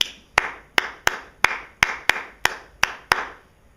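Sharp handclaps repeat in a steady rhythmic pattern, about nine crisp claps with short ringing tails, close and alone with no talking.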